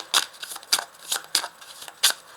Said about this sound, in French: Je vais rajouter une carte.